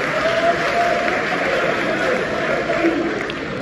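A crowd applauds with a continuous dense patter of clapping that stays steady throughout, and a faint voice is heard over it.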